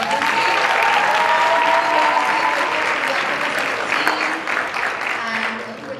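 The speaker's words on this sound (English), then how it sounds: "one more round of applause for Odunsi." Warm applause from the audience at the Warwick Africa Summit 2019 Creative Corner, loud and dense clapping near the front, sustained and gradually thinning toward the end, with some crowd noise mixed in.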